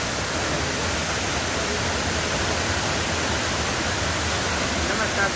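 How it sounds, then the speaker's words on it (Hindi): A waterfall at a scenic spot in Mirzapur district, India, gives a loud, steady rushing roar that fills the whole stretch without a break. "देखिए दोस्तों, ये झरना है, इतना सुंदर नज़ारा है।"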